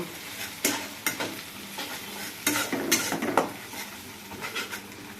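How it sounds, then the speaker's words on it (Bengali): Garlic paste and green chillies stir-fry in a pan, a continuous close sizzle punctuated by repeated scraping and clanking strokes of a spoon against the metal, fairly loud throughout. "একটু কাঁচামরিচ দিয়ে দিলাম। দিয়ে ভালো করে নেড়ে নিলাম।"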